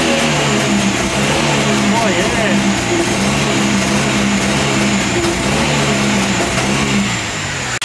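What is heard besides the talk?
V6 Ecotec car engine revving against Bee R rev limiter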